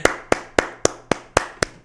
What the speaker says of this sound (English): I don't have any sound effects, so I have to clap with my own hands.